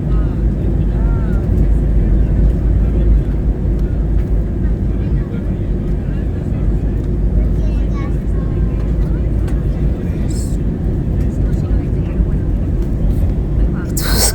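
Inside an airliner cabin during a flight through strong turbulence, a loud, constant low engine and air roar fills the space, with a couple of brief rattles toward the end.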